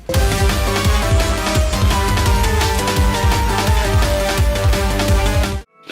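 Dense, loud electronic music from the Shadow Generations video game soundtrack, with driving bass and busy melodic lines, plays continuously, then cuts off abruptly at the end.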